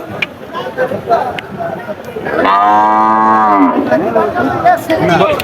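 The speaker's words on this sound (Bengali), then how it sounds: "বিশাল একটা গরু দেখতে পাচ্ছেন" A loud, drawn-out cow moo lasting over a second rises above busy crowd chatter and background voices at the Chaugachha cattle market in Jessore.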